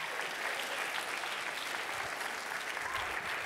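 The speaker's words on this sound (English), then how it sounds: "Can you guys clap it up for Chris?" A live conference audience applauds at SXSW Interactive 2014, with dense, steady clapping from a crowd that holds at an even loudness for the whole stretch.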